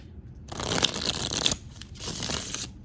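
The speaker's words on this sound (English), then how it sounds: "Let's give it a good shuffle for the Libras for their birthday season." A tarot deck is shuffled by hand, two bursts of rapid riffling card flutter separated by a brief pause, close and fairly quiet with no talking.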